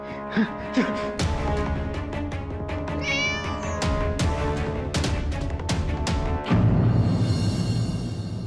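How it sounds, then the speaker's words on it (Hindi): A cat meows over a busy, layered background of music and other sounds, its cry brief and partly buried in the mix. "ये बिल्ली मुझे भी मार डालेगी।"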